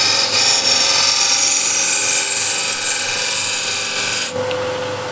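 A Tomasic Refiner hand scraper draws steadily across wood with a loud, close, continuous rasp that cuts off abruptly near the end, leaving a quieter hum.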